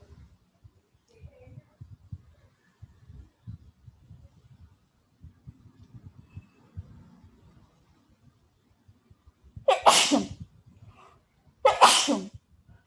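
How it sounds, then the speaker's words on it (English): Two loud sneezes close by during a physics lesson on forces in equilibrium, a couple of seconds apart, following quiet rustling and low murmurs. "Just a sneeze because people are thinking here."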